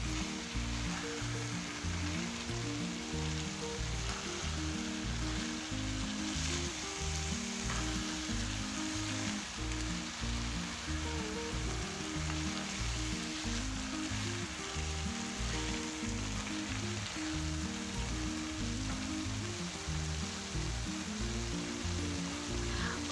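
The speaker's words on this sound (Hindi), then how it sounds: "अब पहले हम शुगर को गाजरों में अच्छी तरह से मिक्स कर लेंगे।" Sugar is being mixed into grated carrots cooking in a pan for gajar halwa, giving a continuous soft sizzle and bubbling hiss, steady and unbroken from start to finish with no voices.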